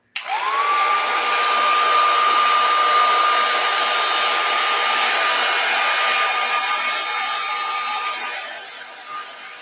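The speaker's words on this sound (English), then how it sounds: "I am going to use my heat tool to dry it just a tad bit" A heat tool dries distress spray on paper with a loud, steady, high-pitched blowing whir that starts abruptly and runs for about nine seconds before easing off at the end.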